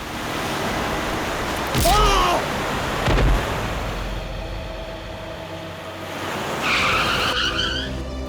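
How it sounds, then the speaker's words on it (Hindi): A car brakes suddenly and skids on the road, giving sharp tire squeals over loud broadband road and engine noise, with a second screech several seconds later. "ये अचानक मेरी गाड़ी के सामने आ गए, मुझे गाड़ी रोकने का टाइम नहीं मिला।"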